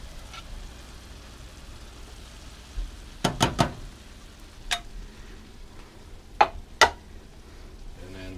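Sautéed vegetables and tomato sauce for Ukrainian borscht are stirred in a pot, with a soft background sizzle broken by a quick cluster of sharp utensil clinks and a few more scattered scrapes.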